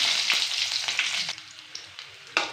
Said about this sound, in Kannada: ಒಂದು ಐದಾರು ಬೆಳ್ಳುಳ್ಳಿ ಹಾಕ್ಕೊಂಡು ಎಣ್ಣೆಯಲ್ಲಿ ಫ್ರೈ ಮಾಡಿ